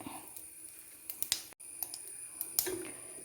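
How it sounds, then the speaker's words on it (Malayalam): Mustard seeds, with a little fenugreek and cumin, popping in hot oil for a leafy Kerala thoran: sparse, sharp little pops and crackles scattered irregularly over a quiet background, fairly faint and close. "കടുക് പൊട്ടിയിട്ടുണ്ട് ഇനി നമുക്ക്"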